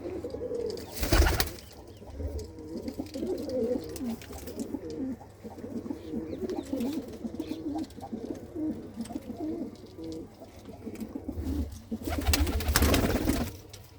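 Racing pigeons kept by a Punjabi fancier coo continuously in soft, low, rolling phrases close by, with brief louder bursts of flapping or rustling near the start and end.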